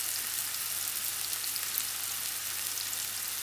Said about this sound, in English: The onion's gone in, it's caramelizing straight away.